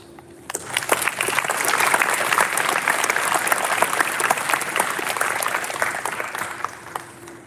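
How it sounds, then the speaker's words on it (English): A crowd applauds at a 2025 spring signing day ceremony at SPIRE Academy, the clapping swelling quickly after a quiet start, holding steady and fairly loud, then thinning toward the close. "recognize all of their hard work with a round of applause"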